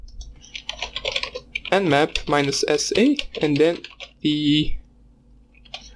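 Keys clatter on a computer keyboard as a command is typed, light quick clicks scattered around and under a man's close speech.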